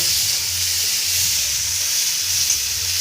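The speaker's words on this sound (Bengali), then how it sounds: "তেলের মধ্যে আমরা পেঁয়াজ কুচি দিয়ে দেবো" Chopped onion fries in hot oil, the pan left after browning potatoes, with a loud, close, continuous sizzle and hiss and no talking.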